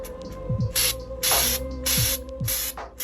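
Red textured spray paint hisses from an aerosol can in several short, loud bursts separated by brief pauses, with small mechanical clicks from the nozzle between sprays.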